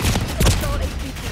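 Gunfire in the video game Call of Duty: Black Ops 6: a rapid, dense burst of shots with a heavier thump in the middle, loud and close, with faint voice fragments underneath.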